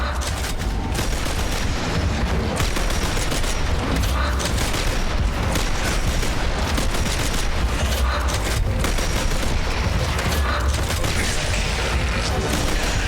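Rapid, sustained gunfire and combat noise from the Gears of War video game, with pistol shots fired quickly against wretch enemies, forming a dense, loud, continuous clatter of shots and impacts throughout.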